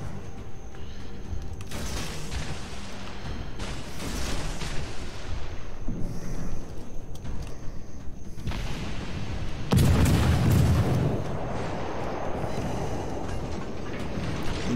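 Naval gunfire in World of Warships: repeated heavy booming blasts roll out over a constant rumble, with one especially loud, deep blast near the end.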